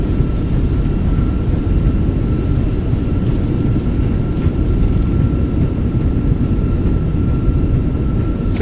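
In MSFS2024, a United airliner lands at San Diego with thrust reversers deployed, giving a loud, continuous broadband roar with a faint steady tone running under it, and no voices.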